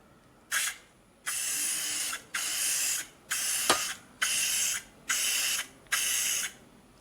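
Aerosol clear coat sprayed onto a headlight lens as a second coat: seven short hissing bursts, each roughly half a second to a second long, separated by brief pauses, close and fairly loud with no talking.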